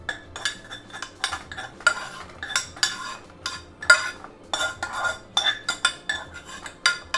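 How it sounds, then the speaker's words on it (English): A metal utensil scrapes and clinks against a non-stick pan in a home kitchen, in sharp irregular strokes with brief pauses between them, close and fairly loud with no talk. "Metal on non-stick."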